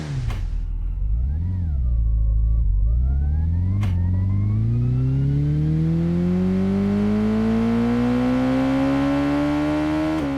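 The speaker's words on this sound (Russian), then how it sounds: "звуки двигателей могут синтезироваться в реальном времени" A real-time synthesized engine drone from GameSynth software revs up and down, then climbs steadily in pitch as if accelerating, loud and continuous with no voices.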